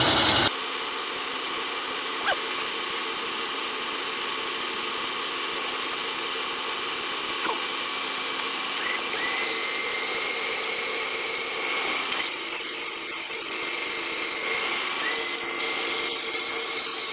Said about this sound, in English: Get swapped out to a milling cutter. Said I'm just going to take a 1/16 off there